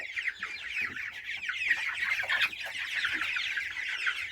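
Young roosters and hens of a large breed cluck and squawk steadily in a farmyard flock, a busy overlapping chorus of close, moderately loud calls with no talk.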